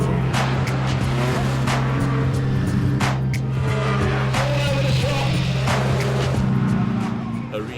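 Banger racing cars at the Arena Essex racetrack roar continuously, a loud droning engine noise with occasional tire squeals and knocks, sustained throughout with voices mixed in.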